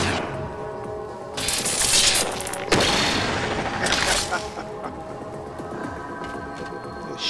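Shotgun fire in the video game Halo 4, a burst of loud gunshots and booming blasts around the two- to three-second mark amid busy combat noise, with a voice talking over it.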